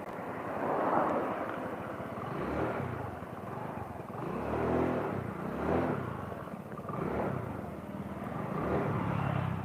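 A carbureted Honda Beat scooter engine runs steadily at high speed, a continuous loud drone with wind rush that swells and eases slightly throughout.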